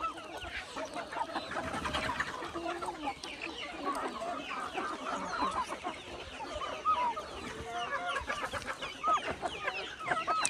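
A flock of free-range desi chickens on a village poultry farm clucks busily and continuously, many overlapping calls near and far with occasional sharper squawks and a faint crow.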